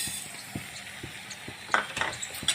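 Cumin and fennel seeds being dry-roasted in a pan, two spoonfuls of each, give soft scraping stirs and light rattling taps at a close, quiet level, with a brief faint sizzle.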